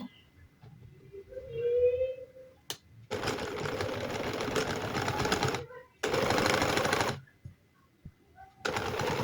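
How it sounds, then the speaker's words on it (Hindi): A sewing machine stitches boot piping in bursts of rapid, rattling needle strokes, running for a few seconds, pausing, then starting again. A brief whistle-like tone and light handling sounds fall in the quiet gaps. "थोड़ा ऊपर की तरफ से सिलाई शुरू करेंगे।"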